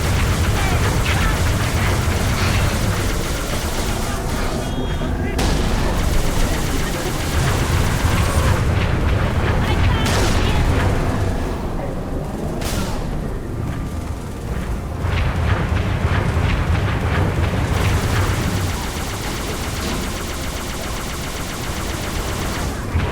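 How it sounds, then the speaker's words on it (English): Halo 3 battle sounds with a Wraith tank dropping bombs: dense continuous rumbling explosions and heavy gunfire layered over loud game music and effects, sustained throughout with several sharper blasts. "Wraith is dropping bombs on us!"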